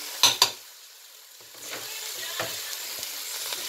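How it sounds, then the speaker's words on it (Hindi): Grated carrots and other vegetables sizzle in a pan for a vegetable soup, with two sharp utensil knocks at the start followed by softer stirring scrapes over a steady fry. "इसको हम अच्छा सा इस तरह से मिक्स करेंगे फ्रेंड्स, सारी चीज़ों के हल्का हल्का फ्राई होने की बहुत अच्छी सी स्मेल आ रही है।"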